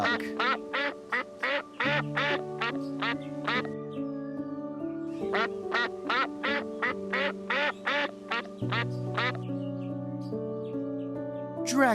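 A duck quacks loudly and close in a rapid run of repeated calls, pausing briefly and then resuming, with the quacks carrying on steadily across the clip.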